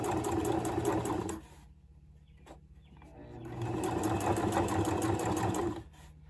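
Sewing machine running a rolled hem on fabric, a steady close-up whir for over a second, a brief pause, then a second longer stitching burst before stopping.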